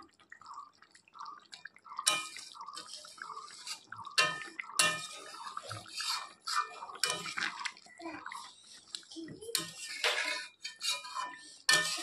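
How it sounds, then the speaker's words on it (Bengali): Katla fish curry with garam masala sprinkled on top being stirred in a pan, giving wet, sloshing scrapes and clinks in irregular bursts, close and fairly loud. "একটু নেড়ে চেড়ে নেব।"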